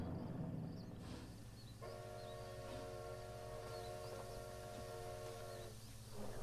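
Train in the video game Red Dead, a sustained multi-tone whistle blowing for several seconds over a low chugging rumble, with birds chirping faintly in the background.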